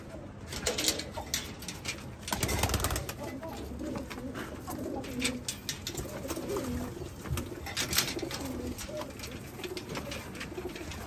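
Soft, repeated pigeon coos from close by, a few birds murmuring over a steady low background hum, with occasional faint rustling.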